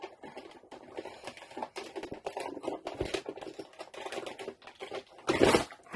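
A hand-cranked die-cutting and embossing machine works through a long die, giving a close, uneven run of clicking and ratcheting rattles, with a louder grinding burst near the end and no talking.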